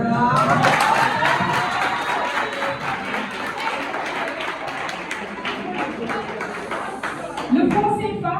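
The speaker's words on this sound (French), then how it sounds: "Applaudissez-vous." An audience claps at a French-language debating contest, a steady patter of many hands that runs for several seconds, mixed with voices from the room.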